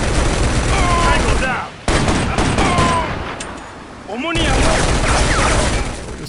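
Gunfire in the video game Shadow Ops: Red Mercury: dense, continuous bursts of shots in two long volleys separated by a brief lull, loud and close, with faint voices mixed underneath.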